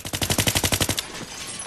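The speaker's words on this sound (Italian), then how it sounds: "Dai che ti sparo, dai che ti sparo." Rapid automatic gunfire in the video game Battlefield 3, a loud burst of about a dozen evenly spaced shots lasting one second, then fading echo.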